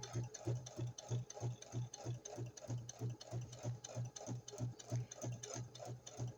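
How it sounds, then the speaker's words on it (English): Sewing machine back-stitching through a junk journal cover, a fast steady rhythmic chugging of regular needle strokes, close and fairly quiet. "So I'll just back stitch at the end here."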